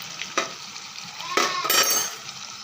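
Chicken pieces frying in a pan, a steady sizzle with a few louder bursts as the meat is added and stirred, close and alone with no talk.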